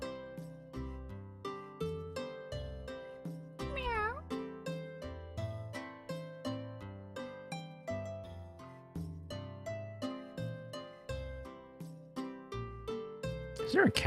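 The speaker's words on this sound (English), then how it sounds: "Is there a cat in here? There's gotta be a cat in here," A cat meows once in a video game, a short wavering call that rises briefly above the steady, looping game music.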